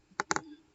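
Computer mouse buttons click sharply in a quick cluster of three, up close and alone in a quiet room.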